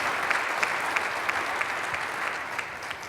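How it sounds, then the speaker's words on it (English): A mayoral forum audience applauds its candidates, a thick, continuous crowd clapping with a few sharper claps poking out at a regular beat throughout. "Let's give our candidates a round of applause one more time."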